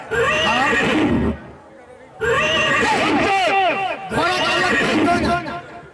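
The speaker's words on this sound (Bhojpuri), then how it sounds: "ये मेरा बिरला घोड़ा की आवाज है।" A horse whinnies in three loud, wavering bursts separated by short pauses, heard during a Maithili nach folk stage programme.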